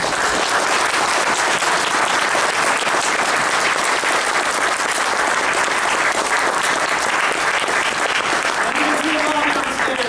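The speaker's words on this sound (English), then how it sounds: "One hand clapping against another would be a great send-off for these wonderful creators" A dense, sustained round of applause from a sizable crowd at the end of a Batman panel fills the space, steady and loud from start to finish, with faint voices mixed in.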